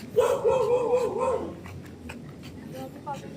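Neighbouring dogs bark and yip in a quick burst close by, followed by a quieter stretch with faint distant yelps, recorded outdoors during a walk with American Bully dogs.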